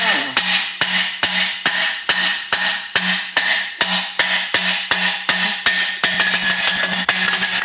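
Steady hammer blows strike a car part during an RB26DETT engine swap into an R34 Skyline, about two hits per second for most of the stretch, loud and close, then quicker lighter taps near the end.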